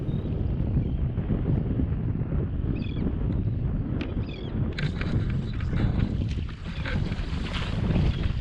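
Steady wind roars and buffets the microphone on open water while fishing from an anchored boat, a continuous loud rush with faint higher ticks and rattles over it and no voices.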